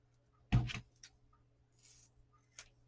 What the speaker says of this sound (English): I'm going to cut this in half.